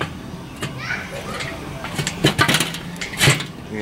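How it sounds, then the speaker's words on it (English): Children play next door, their shouts and chatter coming in lively bursts from a short distance, moderately loud against an outdoor backdrop beside a smoker. "you can hear the kids next door."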